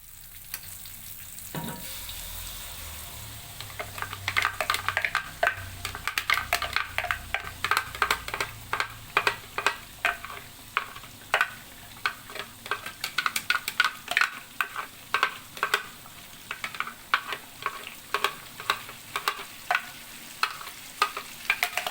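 Baby squid sambal frying with spices in a pan, a steady sizzle broken by repeated sharp scraping strokes of stirring, close and fairly loud with no voices.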